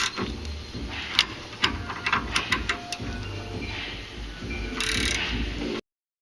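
Vice grips turning a nut on a front sway bar end link of a 2011 Scion tC, heard as a series of close, sharp metallic clicks and ratcheting taps over a steady low garage hum, with a brief hiss near the end.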